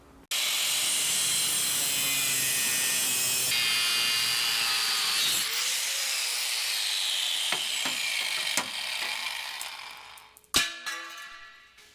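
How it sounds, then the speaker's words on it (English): A power tool cuts through the lower section of a Jeep WJ bumper with a loud, continuous high-pitched grinding whine for several seconds, then winds down, followed by a few metallic clanks and knocks. "We're gonna cut this lower portion out."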